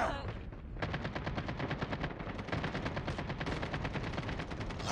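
Sustained automatic gunfire in a shooter video game, a steady rapid rattle of shots that runs almost without a break, loud and close with no voices over it.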